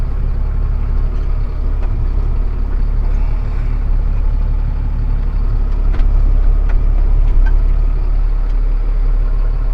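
Farm tractor engine runs at a steady, loud idle inside a shop, a continuous low rumble with no variation and no talking.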